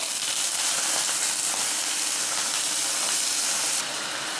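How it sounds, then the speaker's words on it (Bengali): Potatoes go into hot white oil with whole cumin already fried, a loud, even, broadband sizzle that holds steady throughout and eases slightly near the end. "জিরেটা ভাজা হয়ে গেছে, এবার আলুটা দিয়ে দেবো।"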